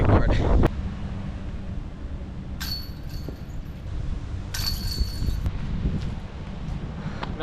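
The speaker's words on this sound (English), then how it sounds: "it is super gusty" Gusty wind of 15 to 25 mph sweeps across an outdoor disc golf course, a low rushing rumble that swells and eases, with faint metallic clinks and some speech nearby.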